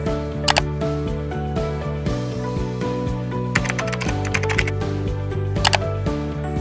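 Keys clack on a computer keyboard while login credentials are entered on a bank website, with scattered clusters of keystrokes standing out above a steady background music bed.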